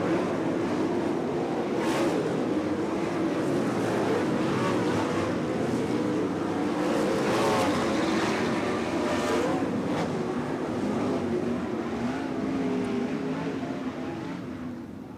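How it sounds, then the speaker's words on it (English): IRA Lightning Sprint cars race through the turns on a dirt track at the Sheboygan County Fair in Plymouth, a steady loud engine roar that swells and fades as cars pass, with no speech. "Through turns 3 and 4, Joel Myers Jr. beats and bangs his way to victory tonight here at Plymouth."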